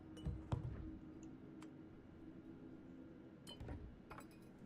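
Glass clinking in Starfield, a few scattered faint clinks and taps, one near the start and a cluster toward the end, over a quiet low hum with no voices.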